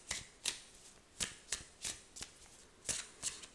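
Tarot cards are shuffled and drawn, with sharp, close riffling flutters repeating in quick bursts about every half second.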